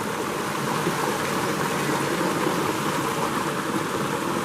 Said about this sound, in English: And just the rest of the stream goes down there.